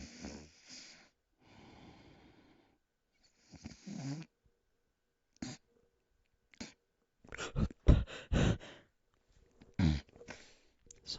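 A person imitates snoring with a handful of short, rough snorting breaths in uneven bursts, some with a throaty rattle, separated by silent gaps and growing louder toward the end.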